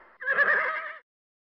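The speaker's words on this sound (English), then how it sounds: "Horse." A horse gives a single loud, clear neigh lasting about a second, rising and wavering before cutting off into silence.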